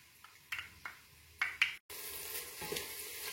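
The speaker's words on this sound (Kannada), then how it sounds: "ತರಕಾರಿ ಸ್ವಲ್ಪ ಈ ಎಣ್ಣೆಯಲ್ಲಿ ಫ್ರೈ ಆಗಿದೆ" Vegetables for masala upma frying in oil in a cooker, with a few quiet stirring scrapes followed by a brief gap, then a steady soft sizzle, close and without talk.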